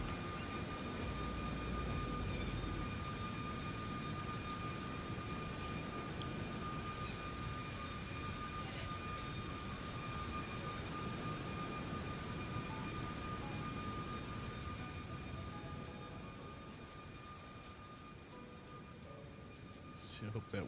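Steady jet engine roar of an iFly 737 MAX 8 airliner in Microsoft Flight Simulator 2024, a constant broadband rumble with faint tonal whine that eases off slightly near the end, with a few clicks at the close.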